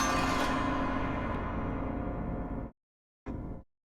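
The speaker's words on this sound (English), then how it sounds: "And this is a Norwegian folk instrument" Out-of-tune Norwegian folk string instrument whose strings no longer hold proper chords, ringing as a dense, sustained strummed chord for about two and a half seconds before cutting off, then a short second burst.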